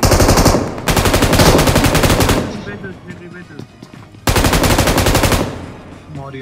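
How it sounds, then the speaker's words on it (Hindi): Loud, sustained bursts of M249 machine gun fire in the BGMI battle royale game, two long automatic volleys separated by a brief lull with quieter game sounds. "इधर आपको देखने के लिए मिलेगा M249 का असली पावर क्या होता है"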